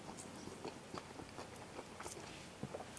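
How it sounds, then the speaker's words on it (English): Someone close by chews and bites into a slice of cheeseburger pizza, giving soft, quiet crunching and mouth sounds over a faint, steady background, with no talking. "after I eat a couple slices plain, because even plain, it's just so mighty fine."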